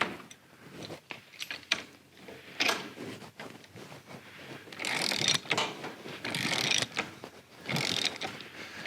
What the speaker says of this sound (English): what we're trying to do is just push it far enough that the bushing is fully centered